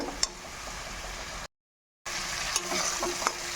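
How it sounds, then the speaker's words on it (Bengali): Masala being stirred and fried in a pan with rock salt while cooking a Bengali vegetarian chana dal and potato curry, a steady sizzle with scraping strokes, cut by a brief silent gap midway. "নুনটা দিয়ে এখন আমি নাড়াচাড়া করে মশলাটাকে কষিয়ে নেব"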